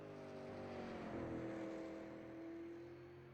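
A simulated race car in iRacing, racing in the Mid-South iRacing Tour at South Boston, accelerates out of turns 3 and 4. Its engine note whines and climbs steadily in pitch, loud and continuous.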